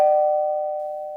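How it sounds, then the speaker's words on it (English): A single doorbell chime rings out clearly, one sustained bright tone that slowly fades, with no voices. "Is that another doorbell ringing?"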